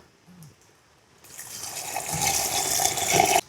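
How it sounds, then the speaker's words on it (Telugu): Water pours steadily into a pot after a quiet moment, a rushing, splashing stream that grows louder and then stops abruptly. "కొద్దిగా నీళ్ళు పోసుకుందాం"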